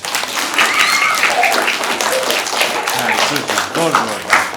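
Steady applause from a crowd fills the whole stretch, with cheering voices and shouts mixed into the clapping.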